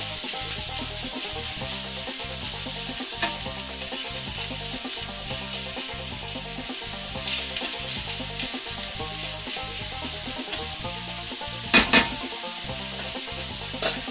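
Shredded hash browns sizzle and fry steadily in a hot pan, a dense continuous crackle with a couple of sharper clinks near the end and no talking.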